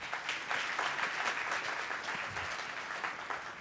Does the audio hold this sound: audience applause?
yes